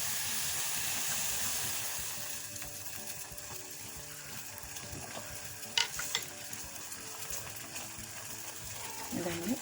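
Wooden stick working through chegodi dough in a bowl, a continuous soft rubbing and slapping churn with a few sharper knocks midway, fairly faint and close.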